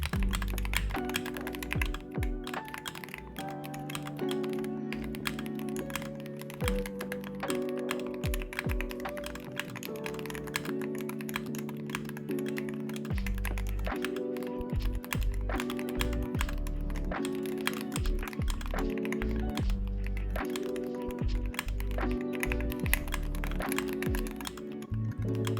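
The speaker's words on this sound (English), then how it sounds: "Enjoy this sound test of the Wooting 60HE in its final form." A Wooting 60HE keyboard in a metal case is typed on continuously, its keys giving a quick, close run of crisp clacks and deeper thocks with steady, uneven rhythm, with no voices.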